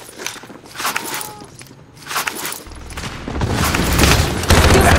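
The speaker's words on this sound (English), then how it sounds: "Enemy precision airstrike! Take cover!" Explosions from an enemy precision airstrike in Call of Duty: Modern Warfare land as heavy booming bursts that build and swell into a loud, sustained rumble of blasts and debris near the end.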